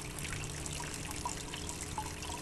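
Water trickles and dribbles through screw-poked holes in a jug in a crude backyard aquaponics setup, a soft steady stream with faint drips, no voices.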